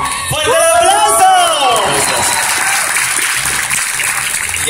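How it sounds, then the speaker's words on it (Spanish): Loud crowd applause with cheering at a quinceañera expo, a big dense burst with a voice rising over the start, then settling into steady clapping. "¡Fuerte el aplauso!"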